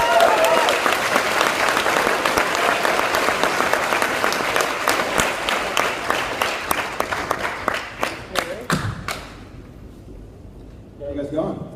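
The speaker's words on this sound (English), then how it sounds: "please give a big round of applause to Mark Cohen" Large crowd at a White Diamond tour event applauds a speaker named Mark Cohen, loud dense clapping that thins into scattered individual claps and fades out, with a voice starting to speak at the end.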